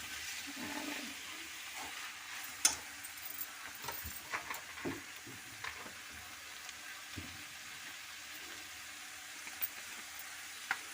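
Boti curry fried in a pan with coriander powder, cumin powder and garam masala, a quiet low sizzle broken by scattered spoon clinks and scrapes, no voices.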